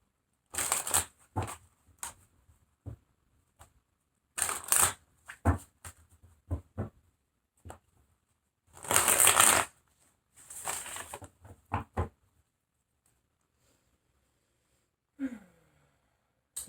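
Tarot cards being shuffled in several short, crisp bursts of riffling and slapping, separated by quiet pauses, close and fairly loud with no talk.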